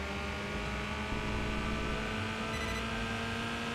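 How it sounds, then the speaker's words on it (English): Honda K-series engine in an Accord, rendered in the racing game Enthusia, drones steadily with a sustained mid-rev hum, loud and continuous throughout with no talking over it. "Oh my gosh, this thing sounds beautiful as well. The K series Honda engines are absolutely amazing."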